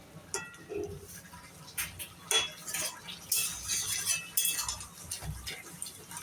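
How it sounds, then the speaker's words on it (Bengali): Vegetable curry of Malabar spinach and jackfruit seeds with mustard paste, stirred and mashed in a pot at a village cookstove: scraping spoon clinks and scrapes against the pot in irregular bursts, close and fairly quiet. "আমি ভালো করে ঘুটে সবজিগুলো মাখা মাখা করবো"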